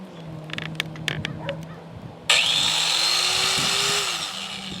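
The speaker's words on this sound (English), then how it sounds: "We're gonna chop up a drive shaft." A Harbor Freight Drill Master grinder cuts into a drive shaft. Quiet background with light knocks gives way partway through to a sudden, loud, sustained grinder roar with a high metallic whine that runs to the end.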